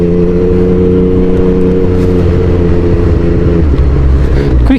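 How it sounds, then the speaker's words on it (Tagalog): A 2024 Yamaha MT-09 with an inline-three engine runs loud and steady from the rider's seat, its harmonic drone holding pitch before dropping and rising again near the end. "even though it's an inline 3, but it has the same noise of an inline 4"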